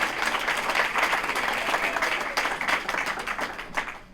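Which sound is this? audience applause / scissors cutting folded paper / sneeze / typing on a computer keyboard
audience applause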